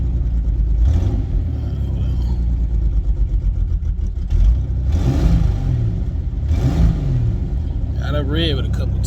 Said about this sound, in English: Got to rev it a couple times.